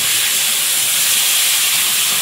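Dry red chilli, cumin, chopped garlic and spices hitting hot oil in a home kitchen, a loud, dense, even hiss of sizzling close up without any talking.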